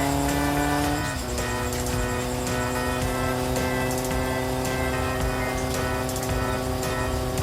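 A car drives steadily along a straight road near Suphan Buri, Thailand, with a continuous, close engine and road drone and a slight shift in engine pitch early on.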